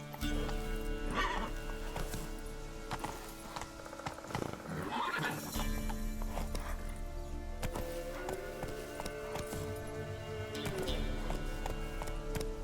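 Roach, the horse in The Witcher 3: Wild Hunt, trots with clip-clopping hooves over ambient game music and lets out a couple of neighs and whinnies, one loud and close around the middle.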